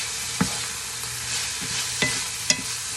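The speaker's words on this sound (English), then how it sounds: "let's give our pork a little bit of a stir" Pork being stirred in a pan, with a few distinct scraping clicks of the utensil spaced over a soft, steady sizzle, close and fairly quiet with no talking.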